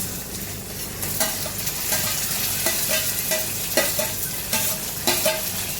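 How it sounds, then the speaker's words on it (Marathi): Garlic and red chilli paste frying with browned onions in a pan, a loud continuous sizzle broken by regular scraping stirs of a spoon, close up and without talk. "तर लसूण पण टाकू एकसाथ, तांबडं पण टाकू"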